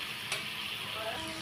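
Potato pieces fry in oil in a pan for an Indian potato and long-bean curry, giving a steady, close sizzle with a brief stirring scrape.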